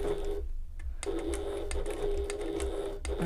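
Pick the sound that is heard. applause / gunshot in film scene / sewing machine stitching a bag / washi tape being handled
sewing machine stitching a bag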